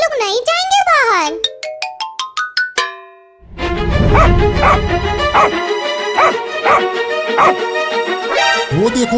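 A cartoon dog barks loudly in a quick run of yips, followed by a voice talking over a bright, bouncy musical background.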